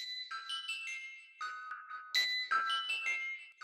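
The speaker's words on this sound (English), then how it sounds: "With this pluck, it sounds like this." A bright electronic pluck sample built in FL Studio, treated with EQ and a wobbly echo delay, plays a quick repeating melodic pattern of short plucked notes, fairly quiet and alone.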